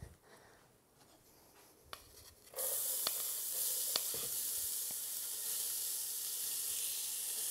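Chopped red onion, celery and carrot hit a hot pan for a vegan bolognese sofrito, bursting into a steady, broad sizzle that continues evenly after a few small clinks.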